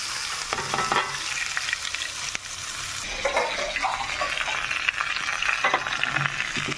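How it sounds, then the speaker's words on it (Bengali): Rice sizzles and fries in oil in a pan while being stirred, a steady hissing crackle with scraping stir strokes throughout, no one talking. "এখন আমি আগে চালটা বাজিয়ে নিব ইনশাআল্লাহ"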